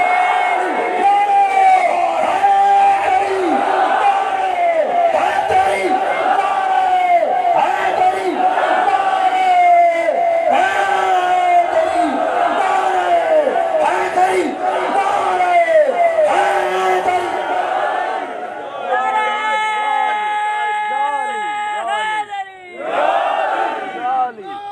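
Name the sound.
crowd chanting the Naara-e-Haidari slogan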